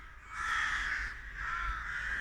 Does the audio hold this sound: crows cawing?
yes